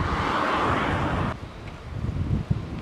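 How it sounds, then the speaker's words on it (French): Wind buffets a cyclist's microphone on a bike-packing ride, a loud rumbling roar that drops off suddenly midway, then returns as lower gusty thumps. "Ah, y a du vent."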